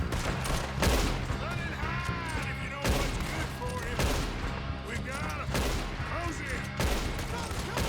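Repeated bursts of gunfire crack through a Red Dead Redemption 2 shootout, with volleys coming in quick clusters and echoing tails, while players talk excitedly over the shots.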